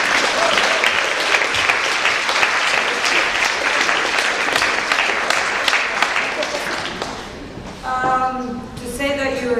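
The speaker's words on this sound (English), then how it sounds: "And give an applause." Dense, loud audience applause at an art symposium, holding steady for several seconds before tapering off as a voice begins speaking near the end.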